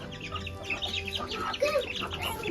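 Chickens and a rooster on a village farm cluck as they are let out of their coop, a busy, close, moderately loud clucking that continues throughout the short stretch without talk.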